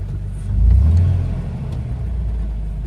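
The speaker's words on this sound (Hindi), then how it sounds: "अब गाड़ी बिल्कुल इसमें टॉर्क के साथ चलेगी, ट्रैक्टर की तरह चलेगी मतलब।" A Toyota Fortuner with a 4000cc engine crawling in four-wheel-drive low range during overlanding in Botswana, a deep steady engine rumble that swells briefly then holds at a low, even drone.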